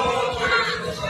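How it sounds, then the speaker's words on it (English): British boxing fans at a Daniel Dubois fight chant in unison like a football crowd, a dense, sustained roar of many voices echoing through a large arena. "That's just like an English soccer chant."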